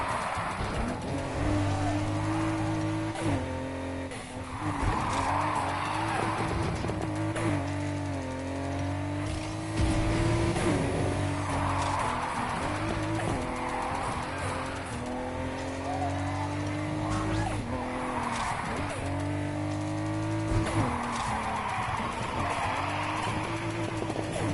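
Car drifting in a racing video game, engine revving and rising and falling in pitch with sustained tire squeal through corners, loud and continuous with a faint voice underneath.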